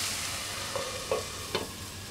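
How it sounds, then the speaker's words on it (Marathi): Masala bhindi of okra and onion cooking over a low flame, a soft continuous sizzle with a few faint clinks and stirs, quiet and close. "एक 5 मिनिटं याला असं मंद आचेवर शिजत ठेवणार आहे, म्हणजे भेंडी आणि कांदा छानपैकी मऊ होईल।"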